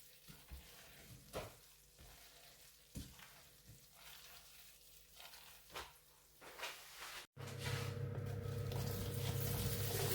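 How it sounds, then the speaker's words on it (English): A sugar mixture bubbling in a pan for an apple cinnamon gluten-free cake, heard as soft crackling sizzle with occasional pops, then a sudden louder, steady hiss as the heat or stirring changes. "Let that bubble for a minute or so"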